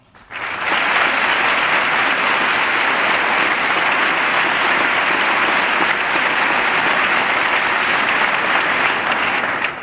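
Members of Congress applaud during a State of the Union address in 2002, a loud and sustained ovation from a large chamber that fills nearly ten seconds without a break.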